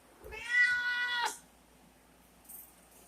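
A pet cat lets out one drawn-out, complaining meow up close, then falls quiet apart from faint background noise.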